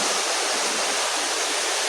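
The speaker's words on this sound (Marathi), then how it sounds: "गायज हो पळय आमचो वॉटरफॉल" Jungle waterfall roaring as a steady, dense wash of falling water, loud and continuous throughout with no voices.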